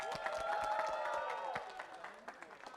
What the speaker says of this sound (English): can I get a big cheer for Team Cube and G-Force?